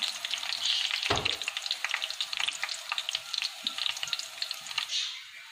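Loud, crackling sizzle of a hot oil tempering poured into kadhi curry, bright and spattering, with a sharp splash near the start and fizzing that settles toward the end.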